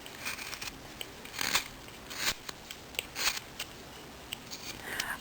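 Quiet snipping of scissors cutting material for a Thanksgiving turkey craft, a series of brief crisp cuts spaced irregularly over a hushed background, close and faint, no speech.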